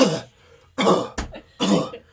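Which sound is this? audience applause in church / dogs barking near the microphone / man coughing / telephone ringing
man coughing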